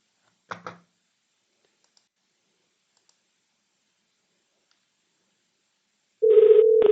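A phone call placed through Amazon Connect: two quick clicks, then near silence, then a steady loud ringback tone begins near the end, close and clear.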